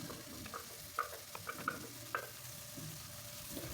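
A ground spice paste sizzles softly in hot oil as it is sautéed, a quiet steady fizz punctuated by a few light ticks and taps of a utensil against the pan, close by and without any voices.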